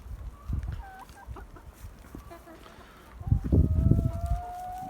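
Chickens on a free-range chicken farm in Bingöl cluck and squawk in scattered bursts, some close and some farther off, with a busier, louder flurry of clucking near the end and a faint voice in the background.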